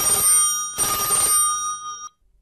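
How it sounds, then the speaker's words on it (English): A telephone rings in an audio story, two loud bursts of bright ringing separated by a short gap, then silence. "the telephone rang."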